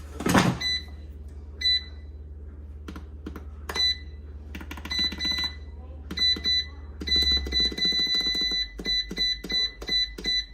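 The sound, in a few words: air fryer timer beeping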